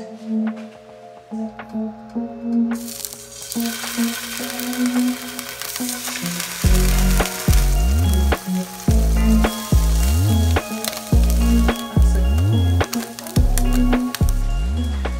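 Spring rolls dropped into hot oil in a pan sizzle loudly and steadily, with the frying growing stronger and pulsing in rhythmic bursts as they settle, and light clinks from utensils.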